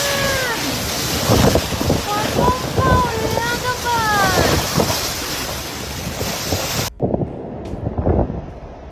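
Floodwaters surge through Hong Kong streets in a heavy rainstorm, a loud, steady wash of rushing water and wind noise. Whistling, chirping tones ride on top, and the sound drops off abruptly near the end, leaving a quieter rumble.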